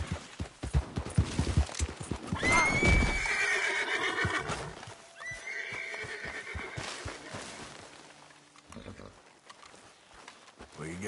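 A horse in Red Dead Redemption 2 neighs loudly and then gallops with rhythmic clip-clopping hoofbeats, with game music and a voice spurring it on over the top.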